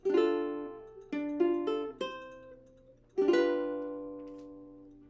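A short fingerstyle ukulele phrase, a handful of bright plucked notes and a final ringing chord, played close and alone with gentle decays.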